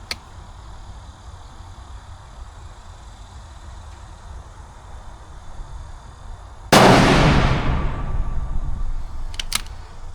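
A single long-range rifle shot cracks loudly after a stretch of quiet wind and outdoor hum, followed by a rolling, fading echo and faint distant ticks.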